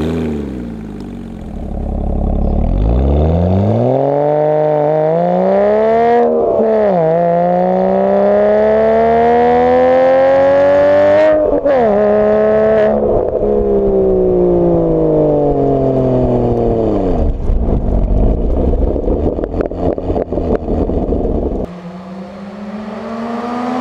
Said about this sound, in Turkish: daha yüksek sıkıştırmalı bir Boxer, o yüzden sesi o kadar böyle Subaru'larınki gibi değil yani